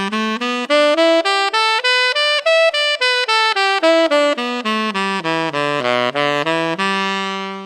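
A major pentatonic scale played note by note on a sustained, harmonically rich instrument, running up and back down in an even, clearly separated rhythm, loud and alone.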